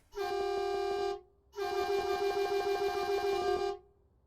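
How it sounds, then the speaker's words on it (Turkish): Mercedes-Benz Actros truck horn in Euro Truck Simulator 2, two loud sustained honks, the first about one second and the second about two seconds after a short pause, clear and alone. "Şöyle bir kornamıza bir basalım."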